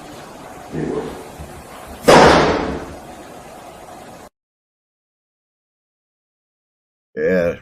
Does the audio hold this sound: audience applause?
no